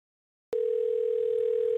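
A telephone line tone sounds while a call is placed during a radio talk show, starting abruptly after half a second of silence and holding as a loud, steady, unbroken single-pitch hum.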